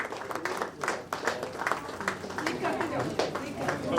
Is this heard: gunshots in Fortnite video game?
no